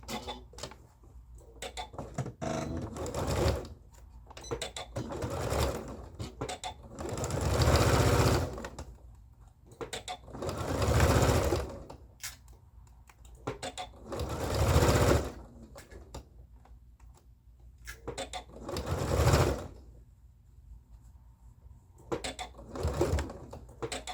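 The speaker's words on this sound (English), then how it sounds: "I'm gonna sew the back dart and the front dart." Sewing machine stitching the back and front darts of a dress, several bursts of rapid whirring stitches separated by short pauses, close and clear.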